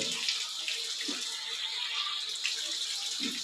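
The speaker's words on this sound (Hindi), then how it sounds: "ये हमने 2 बार पानी डाला।" Tap water runs steadily as it is poured during wudu, the Islamic ritual ablution, a continuous close splashing hiss with small surges and no talk over it.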